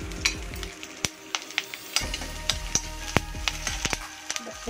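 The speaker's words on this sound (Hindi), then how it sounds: "अब मगजदाना, काजू के टुकड़े और किशमिश, इनको भी हम घी में थोड़ा सा रोस्ट कर लेंगे।" Melon seeds, cashew pieces and raisins roasting in ghee, a close sizzle broken by sharp clinks and scrapes of a spoon stirring against the pan.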